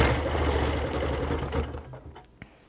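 A sewing machine runs steadily while chain quilting a curved line toward a seam, its motor whirring continuously before slowing and stopping near the end, with a small click after.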